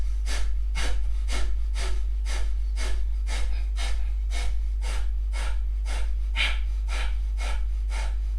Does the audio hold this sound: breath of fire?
yes